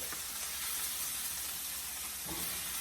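Ginger and a little garlic sizzle in a Lodge cast iron skillet, a steady close hiss of frying that holds without pause for a few seconds, with a faint stir or clatter near the end.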